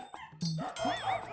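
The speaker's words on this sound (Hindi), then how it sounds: "ऊपर से कुत्ते भी भौंक रहे हैं." At night during rain, a dog lets out a short, close burst of yelping barks and whines over about a second, fairly loud and tonal, with no speech.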